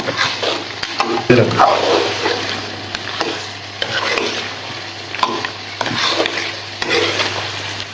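Tinda gosht (round gourd with meat) sautéed in a pan with yogurt and garam masala, a steady low sizzle broken by scraping stir strokes and occasional utensil knocks, close and fairly loud with no talking.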